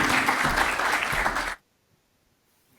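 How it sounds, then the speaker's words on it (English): Conference audience applauding a keynote speaker, a dense burst of clapping that cuts off abruptly into silence partway through. "We'll give you a warm round of applause here from London to Spain."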